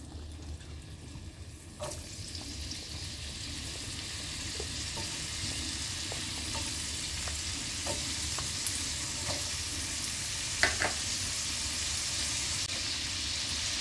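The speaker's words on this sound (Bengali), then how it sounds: "তেলটা গরম হয়ে এসছে। প্রথমে আলুটাকে ভেজে নেব।" Potatoes fry in hot oil in a home kitchen, giving a steady, close hiss of sizzling with occasional light clinks and stirring scrapes throughout.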